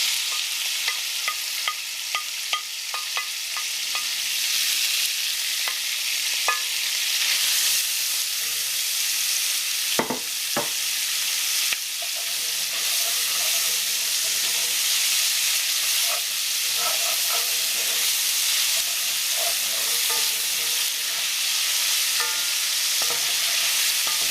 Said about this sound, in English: So now I've got 4 pieces of bacon that I diced up and 1/4 of a large yellow onion that I diced. I'm going to cook these off together.